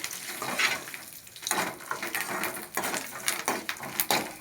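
Dried red chillies and curry leaves frying in hot oil for puliyogare, giving a steady crackling sizzle with short bursts of spattering and stirring scrapes, close and moderately loud.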